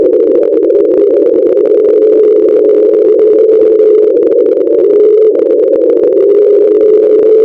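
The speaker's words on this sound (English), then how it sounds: "Captured in 1997, it consists of steady, rhythmic tones that slowly rise in frequency, mimicking the distant chug and whistle of a locomotive rolling through the night." NOAA underwater recording of a massive iceberg grounding in the Ross Sea near Cape Adare, its keel dragging across the seafloor: a loud, steady droning tone holding nearly constant pitch for the whole stretch, with no other sounds.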